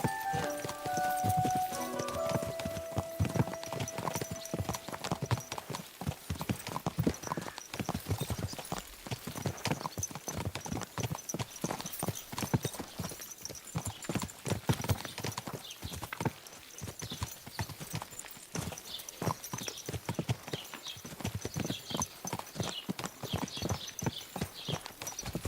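Horse hooves clip-clop steadily and close by in the medieval Bohemian world of Kingdom Come: Deliverance II, a dense run of hoofbeats, with a brief whinny-like tone near the start.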